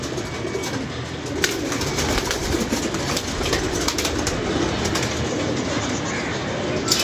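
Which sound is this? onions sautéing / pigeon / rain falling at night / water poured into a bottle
pigeon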